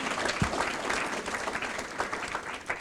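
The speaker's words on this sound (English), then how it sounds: "Let's give them a round of applause" An audience at a county financial report meeting in Batavia claps in steady, dense applause, moderately close and sustained throughout, with a few individual sharper claps standing out.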